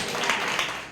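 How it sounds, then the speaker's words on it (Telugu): A congregation at a Telugu Christian sermon clapping hard, in a brief, dense burst of many hands that holds steady for about a second. "చప్పట్లు గట్టిగా"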